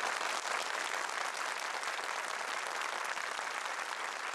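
A studio audience at a Quran recitation contest television show applauds a contestant, an even, unbroken wash of clapping heard fairly faintly and at a distance.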